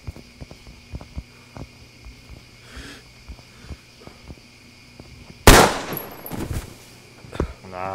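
Game gunfire erupts in a loud burst of rapid cracking shots after several seconds of quiet ambient clicks and faint footsteps, followed by scattered sharp reports and a trailing rattle.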